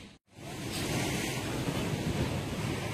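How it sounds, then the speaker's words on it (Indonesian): Big ocean waves surging onto the shore, a loud continuous roar of surf and spray with wind buffeting, after a brief silent gap at the start. "Ombak besar yang melanda kawasan ini terjadi sejak 3 hari yang lalu."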